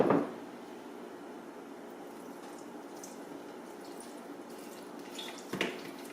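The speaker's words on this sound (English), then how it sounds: "pour you a 1/2 cup of white wine, and you're gonna pour that over the sausage" Half a cup of white wine is poured over sausage in a bowl, giving a soft, steady liquid trickle with a brief splash at the start and a faint clink near the end, quiet and alone in a kitchen.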